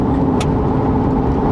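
A Chevy truck engine drones steadily while hauling a trailer on the road, a loud, close, even roar inside the cab with no speech.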